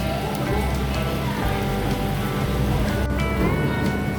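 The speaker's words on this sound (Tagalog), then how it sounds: "Panay ang ulan dito sa Singapore na ulan na" Steady rain pattering on a surface at a food court in Singapore, a dense, even hiss that continues throughout without pause.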